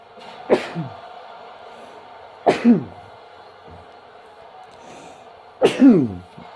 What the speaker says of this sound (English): Excuse me, folks. Sneezes.